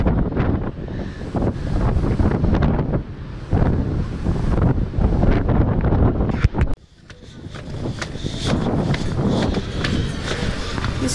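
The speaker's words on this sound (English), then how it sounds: "You see how big the waves are by the pool right there." Big ocean waves and strong wind by a pool in Hawaii, heard as a loud continuous roar of surf and gusting wind buffeting the microphone, with a brief drop partway through.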